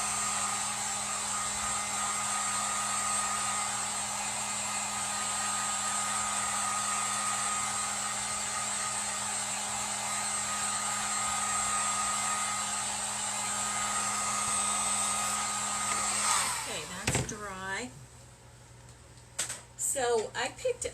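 A hair dryer blows steadily and loudly for about sixteen seconds while drying a honey bee themed craft piece, then cuts off, leaving brief handling noises and faint room sounds.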